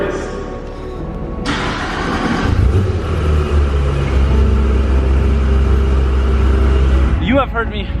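A Porsche 991.2 GT3RS engine runs with a loud, steady low rumble that swells after a moment and holds, while people talk nearby.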